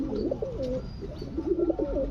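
Blue and other satin pigeons cooing close by in soft, rolling bursts, a few calls overlapping against a faint background hum.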